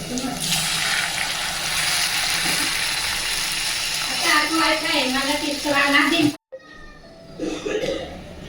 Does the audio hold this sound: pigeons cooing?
no